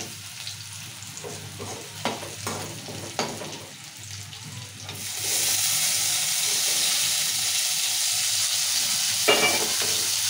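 Tomatoes dropped into hot oil over browned onions, cooking for an ivy gourd curry: soft stirring and clinks at first, then a loud, steady sizzle bursts up and holds, close and continuous.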